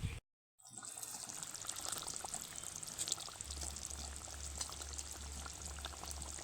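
Fried koi fish go into boiling gravy in a pan, a sudden loud sizzle and bubbling hiss after a brief silence, continuing steadily up close.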